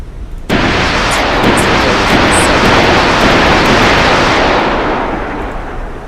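Missile explosions erupt in a sudden, loud, sustained roar that starts abruptly and rumbles on for several seconds before slowly fading, with faint high whistles riding on top.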